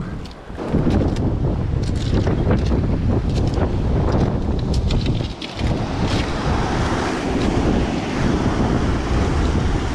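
Waves surge back and forth on a rocky shore, a continuous loud rush of surf and water churning, with heavy wind buffeting the microphone throughout.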